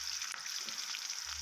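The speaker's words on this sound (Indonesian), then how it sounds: "Ini kita gongso dulu lur ya, sampai betul-betul aromanya tercium harum." Spice paste for soto sizzles in a hot, well-used wok. The frying is a soft, steady crackle heard close up but quiet, with no talking.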